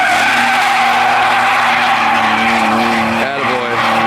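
A BMW E30 car skids around a skid pad at a driving event, tyres squealing in a loud sustained wavering screech that bends near the end, with people talking over it.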